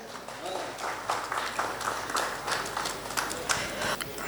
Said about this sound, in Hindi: तो ऐसे ही महान डॉक्टर आरपी सिंह जी के लिए जोरदार तालियां।